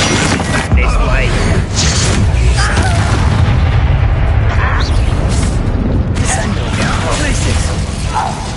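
Fiery Confringo blasting spell from Hogwarts Legacy combat, loud booming bursts with mechanical clatter, repeated across a dense, continuous battle din with no pause.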